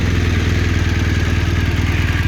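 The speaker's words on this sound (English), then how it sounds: "Just going to start the engine now" A 2017 BMW R 1200RS motorcycle with about 1000 miles on it idles after starting, its boxer engine giving a loud, close, steady low throb with even mechanical clatter and no talk.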